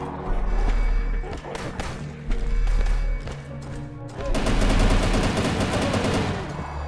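Rapid machine-gun fire from retro Doom-style shooter Incision, heavy bursts of repeated shots with brief pauses between volleys, loud and close under a thumping background.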